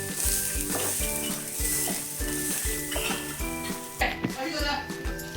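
Grated coconut and onion roast in a pan for Goan chicken xacuti, a steady close sizzle with repeated rhythmic scraping strokes of a spoon against the pan and clinks of metal.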